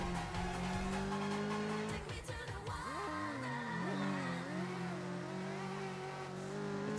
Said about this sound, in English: It's funny how the MRS's engine sounds more aggressive than the R32's engine.